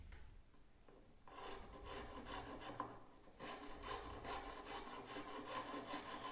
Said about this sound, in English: The sawn out tracery can be cleaned up with a selection of rasps and files.